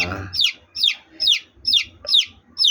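Domestic pigeons kept in a loft with a freshly laid egg give a series of about five rhythmic, close chirping calls at regular intervals, with a soft low murmur of cooing underneath.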